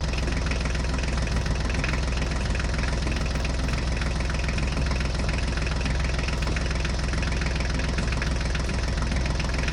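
A tractor engine runs steadily at idle, a loud continuous low rumble with knocking vibration and no voices over it.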